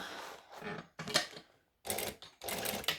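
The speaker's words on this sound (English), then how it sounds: "So I'm stitching, I'm back stitching" A sewing machine back-stitches a fabric bag in short bursts of rapid mechanical whirring, close up and separated by brief pauses.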